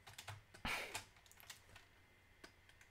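Quick, light typing on a computer keyboard during a live digital-drawing session, a short burst of clattering keystrokes followed by scattered individual taps, close and fairly quiet.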